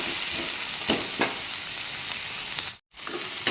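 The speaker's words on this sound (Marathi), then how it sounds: "छान तळून घ्यायचं." Food sizzles steadily in a pan as chillies are fried, a constant broadband crackle with a couple of stirring bumps and a brief drop near the end before the frying resumes.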